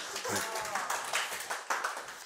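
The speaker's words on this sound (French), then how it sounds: "là c'est là où vous applaudissez parce qu'on fait disparaître Myriam" Short burst of clapping from a small audience at a stage magic show, a few hands patting quickly and unevenly, heard fairly close.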